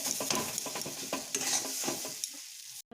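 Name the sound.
stirring ground spices with vegetables in a pan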